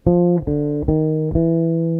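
A few short, sustained low bass guitar tones step quickly from one pitch to the next in a chromatic jazz lick, with clear attacks, played alone.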